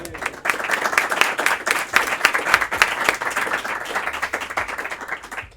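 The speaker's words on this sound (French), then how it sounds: "Et les applaudissements qui commencent déjà, c'est incroyable" A crowd at an Apéros Motion evening event, a Cavalry initiation with Jose Lo-Brutto, breaks into loud, close, fast clapping that swells after a brief dip and continues vigorously throughout.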